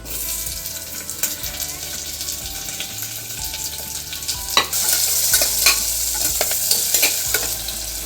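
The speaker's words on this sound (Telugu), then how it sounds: "ఇప్పుడు పచ్చి ఆనియన్స్ వేసుకుంటున్నాం ఫస్ట్." Raw onions frying in hot oil for chicken haleem, a steady sizzle with repeated stirring and scraping strokes throughout, growing a little louder and brighter midway.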